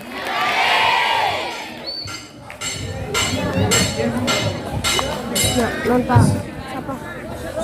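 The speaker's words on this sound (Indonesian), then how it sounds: "Tepuk tangan untuk kalian semuanya." A group of junior high school students cheer and shout, then clap in a steady rhythm, close and lively.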